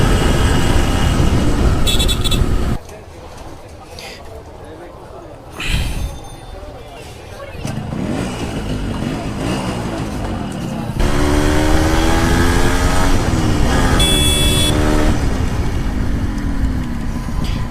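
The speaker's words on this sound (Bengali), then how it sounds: "রাইট নাও আমি রাইড করছি ইয়ামাহা RX 115" A Yamaha RX 115 two-stroke motorcycle is ridden, its engine droning and revving through rising and falling pitch with loud wind rush, while someone talks over much of the ride.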